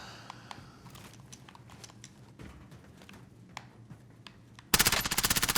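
Rapid video game gunfire, with scattered close single shots and clicks that build into a loud, sustained machine-gun burst near the end, no talking.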